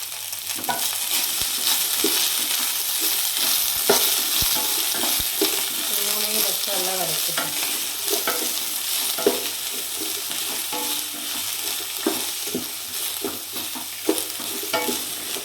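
Shredded cabbage stir-fries in hot oil with garlic and onion, a continuous loud sizzle with repeated scraping strokes of a spatula against the pan.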